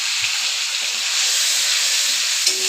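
Masala paste of ginger-chilli, turmeric and a splash of spice water frying in a pan, a loud continuous sizzle with faint stirring scrapes.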